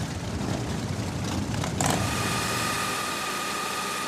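A Harley-Davidson V-Rod motorcycle engine runs steadily close by, a loud broadband rumble with a brief rise partway through, no voices over it.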